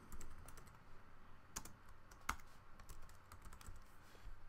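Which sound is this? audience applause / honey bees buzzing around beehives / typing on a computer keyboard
typing on a computer keyboard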